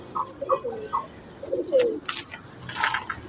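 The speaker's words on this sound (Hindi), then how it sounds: "ये जो है परवाज़ी पेयर है और बच्चे उड़ाने वाला कबूतर है।" High-flyer breeding pigeons coo in a setup, several soft, low burbling coos arriving in short bursts close by, with a few brief higher chirps mixed in and no talking.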